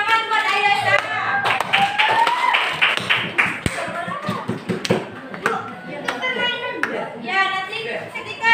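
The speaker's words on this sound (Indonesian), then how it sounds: "ya, tepuk tangan buat Ayah Syah." Classroom applause at a junior high school teaching practice, bursts of hand clapping from children with scattered taps, mixed with voices and a teacher speaking between and over the claps.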